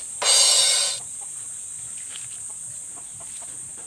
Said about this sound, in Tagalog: Yun, may mga manok